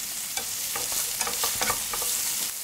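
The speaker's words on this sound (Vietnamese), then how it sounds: "Rồi mình cho nấm mèo, nấm hương vào mình xào lên." Wood ear and shiitake mushrooms being stir-fried in a pan, with a steady sizzle broken by repeated scraping and clacking of a utensil stirring them, close by and without any talking.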